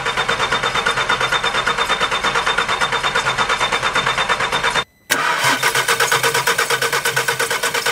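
An Audi RSQ3 engine with oil leaking from its hydraulic tappets cranks over with a fast, rhythmic churning. It stops abruptly for a moment, then cranks again just as steadily and loudly.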